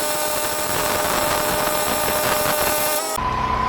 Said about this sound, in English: Let's weld it out.